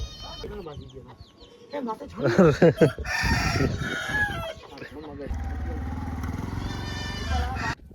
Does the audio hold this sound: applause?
no